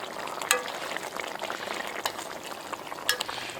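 Curry kingfish fries in a pan with a steady soft sizzle, close and fairly quiet, broken by a few gentle clinks of a utensil against the pan.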